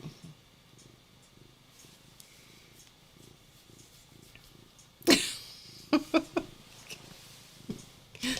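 A house cat purrs softly and steadily up close, with a low rhythmic rumble, followed by a few sharp rustles and bumps as it settles onto a towel and water brush.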